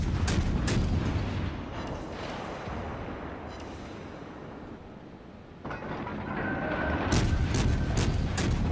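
Naval guns in a warship video game fire high-explosive shells, heard as a run of heavy booming salvos with a rumbling rolling tail, then a fresh series of sharp, close cannon blasts near the end.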